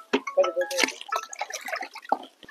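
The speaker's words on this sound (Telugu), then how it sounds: "10 లీటర్లు నీళ్ళు వేసేసేయండి." Water is poured into about six kilograms of ground papaya leaves to make a crop pest-control extract, giving a brief run of drips and splashes mixed with clatter, close and moderately loud.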